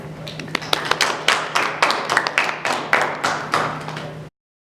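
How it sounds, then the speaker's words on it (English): Sparse audience applause at a networking talk, a small group clapping with distinct, fairly close hand claps in an uneven rhythm for about four seconds before cutting off. "Please give them a round of applause."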